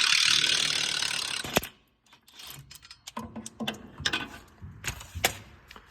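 A ratchet removes an 18 mm upper ball joint nut: a loud burst of high noise fades into quiet, then close, irregular metallic clicks and clanks from the tool working the nut.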